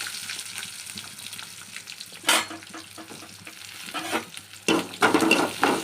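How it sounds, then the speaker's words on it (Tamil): Onions hit hot oil with popped mustard seeds and sizzle steadily at close range, with a few louder stirring scrapes and clatters through the frying. "கடுகு பொரிஞ்சிச்சு. வெங்காயம் போடுறேன்."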